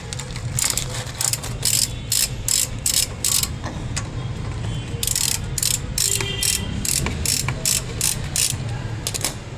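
A ratcheting wrench loosens a 5 mm bolt on the brake caliper of a Keeway XDV motorcycle, giving bursts of rapid metallic clicks with short pauses between them, loud and close over a steady background hum.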